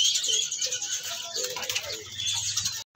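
A hill myna whistles and chatters in bright, high calls, moderately close, with some rustling and faint background noise.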